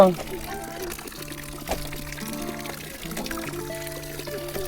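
Water pours steadily from a pipe with a gurgling, filling sound while voices talk over it close by.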